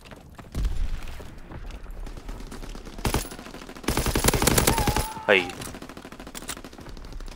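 Rapid automatic gunfire bursts in the World War II shooter Call of Duty: WWII multiplayer, loud rattling volleys broken by brief pauses, with a player's voice talking over parts of it.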